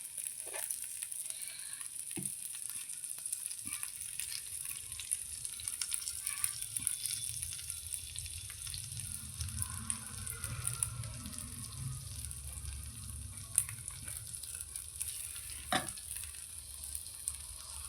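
Batter sizzles on a hot pan layered with peanut chutney, a steady crackling fry with a soft hiss throughout and occasional faint clinks, no speech.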